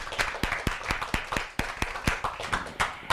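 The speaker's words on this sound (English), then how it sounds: "Shall we clap again?" An audience claps together in a slow, even unison rhythm, about a dozen distinct sharp claps at regular intervals.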